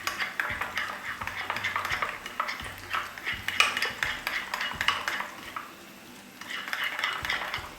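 Chicken patty mixture with cream and salt stirred in a bowl: a close, steady clatter and scrape of a utensil against the dish, with a short pause before mixing resumes.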